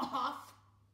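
A single short, rough cough from one voice, fading quickly into quiet; it sounds like a person imitating a cough.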